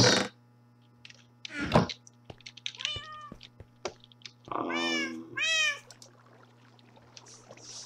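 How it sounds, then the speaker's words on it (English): Minecraft cats meow in a few short, clear calls separated by quiet gaps, with soft clicks and taps between them against a faint steady hum. "Leave these cats behind."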